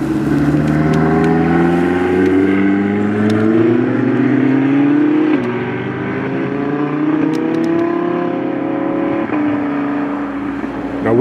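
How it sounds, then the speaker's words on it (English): A Ferrari California sports car runs a sprint course, its engine note rising and falling through repeated revving gear pulls, loud and close, with no voices. "Next up, Ferrari."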